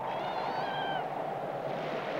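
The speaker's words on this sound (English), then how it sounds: "Monotony is dispelled by the arrival of Spunky the kitten, a gift from an Indian trapper." A kitten gives one clear, high-pitched meow with a few wavering cries around the half-second to one-second mark, heard over steady indoor background noise in a winter cabin in the northern wilderness.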